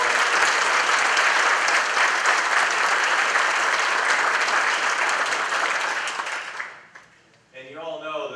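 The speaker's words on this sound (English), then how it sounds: "Let's give them all a round of applause." Sustained audience applause fills a volunteer luncheon, dense steady clapping for about seven seconds before fading out, followed by a voice speaking.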